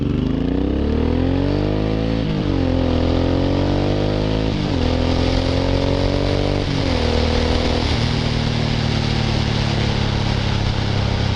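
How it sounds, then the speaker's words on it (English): A motorcycle accelerates hard with a loud, continuous engine roar. Its pitch climbs and drops sharply at several quick gear changes made with a star shifter, close up and with no voices. "I'm going to show you how fast I can shift"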